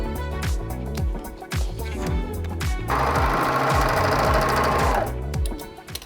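A sewing machine stitches pant-leg fabric in a home sewing studio, running in short rattling bursts with brief pauses, then one longer steady run, close and loud.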